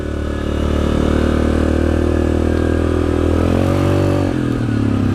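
A Yamaha Grizzly 700 XTR ATV, 700 cc and fitted with big tires, is being ridden. Its engine drones loud and steady up close, with a brief dip and rise in pitch as the throttle shifts near the end.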